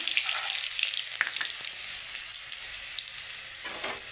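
Garlic, a dried red chili and a bay leaf fry in hot oil with a steady, close sizzle, plus a few sharp pops and light stirring clinks.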